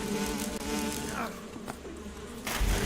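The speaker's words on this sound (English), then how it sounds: "You don't jump in water when bees are chasing you." A swarm of bees buzzing loudly and continuously in a Metal Gear video game, a dense droning hum filling the scene with a heavier thump near the end.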